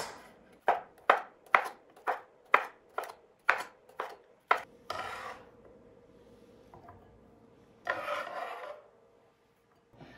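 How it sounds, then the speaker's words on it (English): A knife chops food for a Cajun chicken and sausage gumbo, about ten sharp, evenly spaced strokes close by, then a pause and a brief scraping sweep across the board; no talking. "Let me just get this chopped up first."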